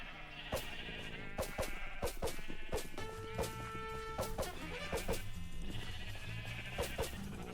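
Sheep bleating in Minecraft near a penned flock standing on podzol, with several short, repeated bleats scattered across a steady game ambience, along with sharp clicks and a brief sustained tone in the middle.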